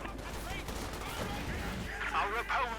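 Bazooka rockets fire in a Company of Heroes 2 battle, a dense run of gunfire-like bursts and blasts over steady battlefield noise, with a voice talking over parts of it.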